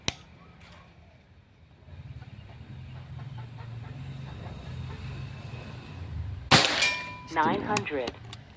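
A sharp shot from a Pajero Gen 6 air gun during an accuracy test cracks loudly after a stretch of low rumbling background, followed by metallic rattling and clinking.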